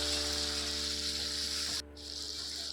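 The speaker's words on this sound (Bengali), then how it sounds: "সেই আলুগুলোকে দিয়ে দিয়েছি তেলের ওপরে দিয়ে ভালো করে তেলের সাথে ভাজবো" Long strips of potato fry in hot oil with cumin seeds, giving a steady, bright crackling sizzle that carries close and loud, with a brief dip midway before the frying hiss resumes.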